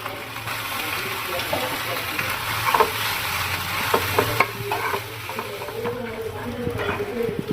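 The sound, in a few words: stirring and frying food with spices and tomato sauce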